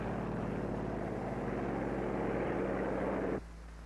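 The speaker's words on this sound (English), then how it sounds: "Also taking off from the carrier are control planes that will guide the radio-controlled drone" Steady propeller aircraft engine drone as control planes take off from an aircraft carrier, a broad constant roar that drops away abruptly near the end.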